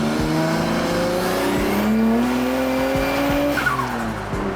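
Tuned Nissan R34 Skyline making about 350 horsepower, its engine loud and close as it revs hard through several rising and falling sweeps, with tire squeal and skidding mixed in and no one talking.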